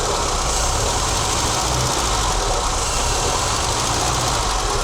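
A Mercedes W123 230E petrol engine runs at a steady idle after fuel distributor repair, a constant loud broadband rumble with a faint knocking roughness and heavy shaking, no voices over it.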